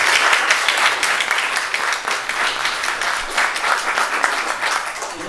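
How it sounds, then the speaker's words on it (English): Steady, dense applause fills a city council meeting chamber as the audience claps together for several seconds, close and fairly loud. "let's give him a round of applause"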